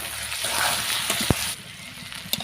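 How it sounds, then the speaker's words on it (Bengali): Katla fish curry with potato and taro simmering and sizzling in a pan, a steady bubbling hiss with a sharp knock partway through and a few lighter clinks near the end. "এদিকে আমার তরকারি সুন্দর রান্না হচ্ছে আলু দিয়ে এবং কচু দিয়ে কাতলা মাছের ঝোল হতে চললো"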